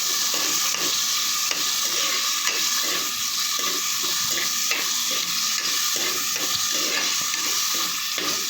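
Chopped tomatoes stirred into hot oil with curry leaves for a Kerala-style fish curry, giving a steady close sizzle broken by regular scraping strokes of a spoon against the pan.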